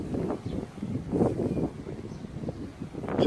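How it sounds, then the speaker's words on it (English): Outdoor wind at Terherne, Friesland, buffeting the microphone on a breezy day, low rumbling gusts surging and easing continuously, close and fairly loud with no voices. "It's a nice day, a little bit windy."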